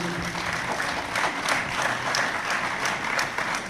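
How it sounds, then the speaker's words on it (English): A round of applause from the audience at a memorial event continues steadily throughout, moderately loud and crowd-wide, with no voices on top. "I'd like to give them a round of applause"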